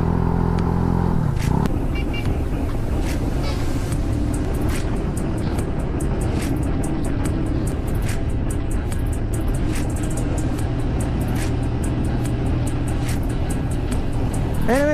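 Motorcycles and other vehicles drone past near Kaybiang Tunnel, a continuous close engine rumble with a sharper change early on and brief higher whines near the end, carried steadily with no talk over it.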